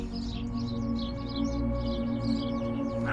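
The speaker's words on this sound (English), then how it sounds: "I could hear a load of sparrows squawking in the bushes next to me" Sparrows chirping and squawking in bushes beside a muddy riverside footpath along the River Sowe, a steady busy chatter of small bird calls close by over a constant low background hum.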